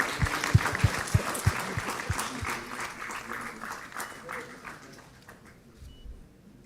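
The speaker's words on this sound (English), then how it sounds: "A big round of applause, please." An audience claps, a burst of applause with a few sharp individual claps at first that thins out and fades.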